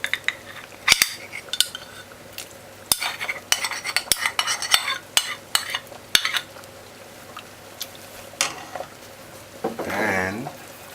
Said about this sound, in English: So now we're gonna add the butter.